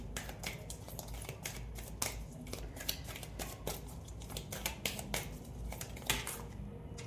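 Tarot cards shuffled by hand during a reading, giving a steady run of crisp riffling and flicking clicks with sharp snaps every second or so, close and moderately quiet, with no talking.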